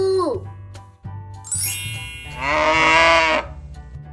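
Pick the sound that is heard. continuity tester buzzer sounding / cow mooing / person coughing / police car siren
cow mooing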